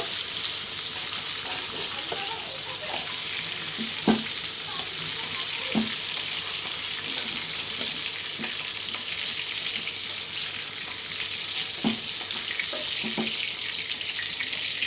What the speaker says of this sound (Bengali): হলুদটা দিয়ে পটলটা আমি আরেকটু ভেজে নেব